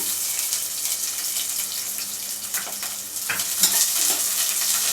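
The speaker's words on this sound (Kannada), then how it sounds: "ಈರುಳ್ಳಿನ ಸ್ವಲ್ಪ ಕೆಂಪಗಾಗೋವರೆಗೂ ಚೆನ್ನಾಗಿ ಬಾಡಿಸ್ಕೊಳ್ಳೋಣ" Chopped onion frying in a pan while being stirred, a continuous hissing sizzle with light scraping strokes that build toward the end, heard close with no voices.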